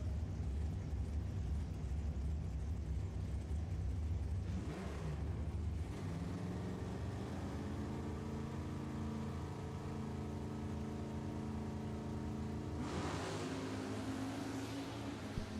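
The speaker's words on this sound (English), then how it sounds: "Taking on the 69 Chevrolet Camaro of Mike Warren with a 250 cubic inch 6-cylinder power plant." Two drag racing cars, a 1962 Plymouth and a 1969 Chevrolet Camaro with a 250 cubic inch six-cylinder, drone and rev steadily in the distance, with engine pitch rising and shifting as they accelerate.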